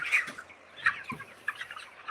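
Hens cluck in a crowded broiler poultry shed, a dense, fairly close chorus of short calls rising and falling over steady background noise, with no talking.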